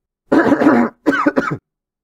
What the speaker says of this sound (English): Sorry, I really had to cough there.